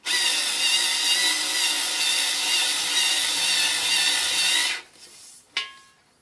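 A small cordless screwdriver fitted with a drill bit grinds inside a steel bascinet helmet, loud and harsh for nearly five seconds, then cuts off, leaving a brief metallic click and a fading tail.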